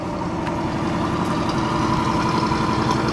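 A 1967 Cadillac Eldorado engine idles cold just after starting, giving a steady, close, low rumble that holds even throughout with no talk over it.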